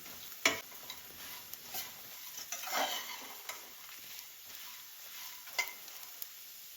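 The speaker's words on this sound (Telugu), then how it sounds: "ఇప్పుడు ఇది పచ్చి వాసన పోయేంత వరకు కాసేపు ఫ్రై చేసేసుకొని సర్వ్ చేసుకోవడమే అనమాట." Potatoes for aloo fry sizzling in a pan, a soft continuous frying hiss with occasional sharp scrapes and clinks of a spoon stirring against the pan.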